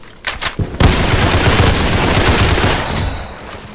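Automatic AK rifle gunfire in the Roblox game Criminality: a few quick shots, then a loud, sustained burst of rapid fire lasting about three seconds, close and dominant, trailing off at the end.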